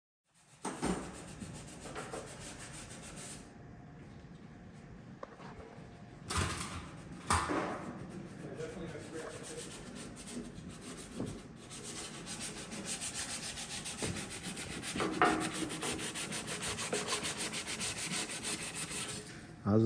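Sanding body filler on the bodywork of a retired 1947 Greyhound bus being converted to an RV: steady, continuous rasping strokes close by, swelling in bursts with short pauses, and no talking.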